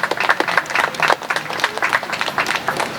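An audience at a Hawaiian roll commission gathering applauds for Pono Kealoha, a lively spread of many hands clapping with uneven bursts and swells across the moment.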